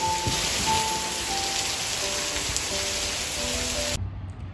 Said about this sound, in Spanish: después que empezó a llover, no grabé más nada